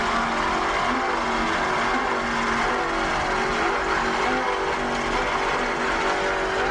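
Offshore racing powerboats powered by twin 630-horsepower marine inboards with Mercruiser drives race past the pier at Key West, a loud sustained droning engine roar with slight pitch shifts as the boats pass.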